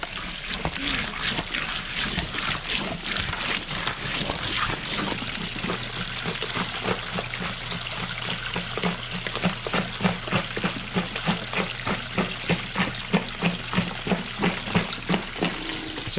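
Water flows and splashes through a homemade sluice box being fed with sampled dirt, a steady close rushing wash with rhythmic sloshing pulses growing stronger in the second half.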